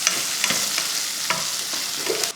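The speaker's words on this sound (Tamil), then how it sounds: "இதெல்லாம் மசாலா வதக்கிறதுக்காக தான்" A steady sizzle of onions and spices sautéing in a pan for mutton curry, with occasional soft scraping stirs cutting through the hiss.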